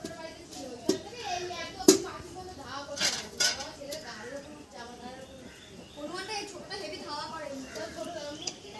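Toy pots, pans and utensils clink and clatter in sporadic knocks during a child's pretend cooking game, light and close, under near-constant children's chatter.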